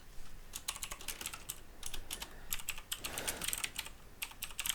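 Rapid keystrokes on a computer keyboard come in uneven bursts of sharp, close clicks with brief pauses between runs, as code is typed into an editor.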